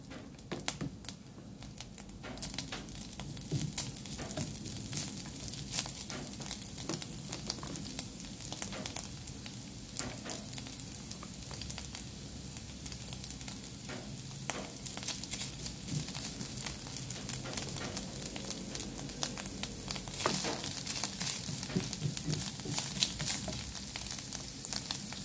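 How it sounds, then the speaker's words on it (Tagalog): Ground bamboo shoots sauté in a hot pan, giving a steady, close sizzle with crackling and occasional stirring scrapes throughout, no talking. "Ayun na nga, nagpainit na ako ng kawali. Unahin ko ng igisa to."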